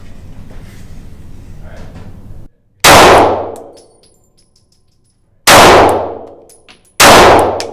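Three sharp Springfield Hellcat pistol shots fired at a target, loud and close, each with a ringing metallic decay, spaced irregularly after a stretch of quiet background noise.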